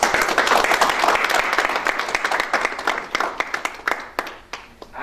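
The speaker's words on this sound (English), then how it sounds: "I'm request a round of applause for the excellent presentations made by our speakers" Conference audience at a defence and deterrence workshop applauding its speakers, a full round of clapping that thins into scattered individual claps near the end.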